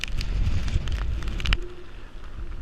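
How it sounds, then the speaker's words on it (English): Strong wind gusts of around 60 mph roar steadily and loudly, buffeting the microphone with a rough, continuous rush that rises and eases slightly; no voices. "I think we're getting around 60-mile-an-hour gusts."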